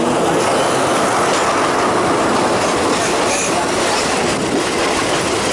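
A southern line passenger train runs from Thonburi toward Lang Suan. The heavy, continuous rumble of wheels on rails carries faint squeals and clatter, loud and close from inside the moving carriage.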